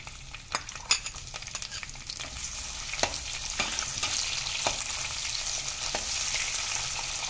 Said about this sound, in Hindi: हाई फ्लेम पर हम इसको भून रहे हैं प्याज को।